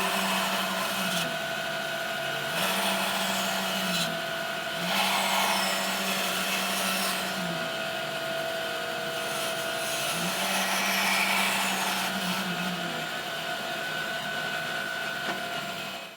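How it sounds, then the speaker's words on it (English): A workshop bandsaw cuts the inner section out of a wooden box-joint drawer handle, a loud steady motor whine with the blade's pitch dipping and rising as it bites into the wood over several passes. "take it to the bandsaw and we'll cut this inner part out"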